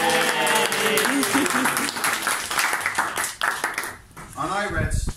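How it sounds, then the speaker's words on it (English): Wedding reception guests applaud the best man during the groom's speech, dense clapping mixed with cheers and excited voices that thins out toward the end as talk and laughter take over. "Round of applause."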